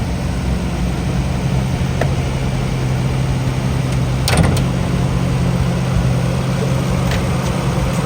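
A Nissan Skyline GT-R BNR32 fitted with an HKS 2.8-litre engine idles steadily with a low, even drone, with a brief sharp clatter midway and no talk.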